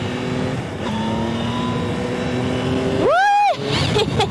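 A 2022 Yamaha Tracer 9 GT motorcycle with an 890 cc engine hums loudly and steadily while riding, over rushing wind. Its revs then climb and fall back in one quick surge.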